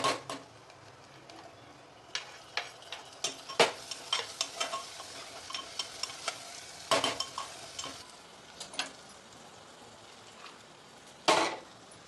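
Tomatoes fry in sautéed masala for a fish curry, a soft continuous sizzle broken by repeated sharp clicks and scrapes of a spoon stirring against the pan, with no voices.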